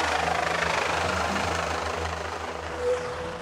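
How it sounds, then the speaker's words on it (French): Rescue helicopter evacuating a hiker during a Marseille firefighters' mountain rescue, a steady low rotor drone and engine whine holding loud and continuous throughout. "il décide d'évacuer la randonneuse par hélicoptère"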